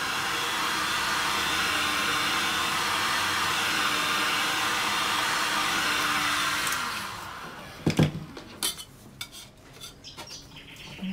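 A heat gun blows hot air onto the back of a resin painting, a loud steady whooshing roar that cuts off partway through, followed by a few sharp knocks and scraping clatters nearby.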